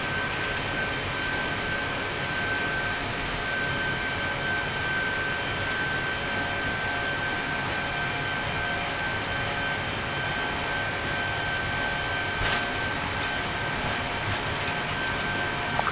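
Airbus jet engines roar steadily during the takeoff roll from London Heathrow, heard from the cockpit as a dense, constant broadband rush with a faint high whine, unbroken throughout.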